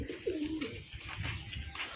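A pigeon gives a single soft, low coo up close, followed by quiet background murmur.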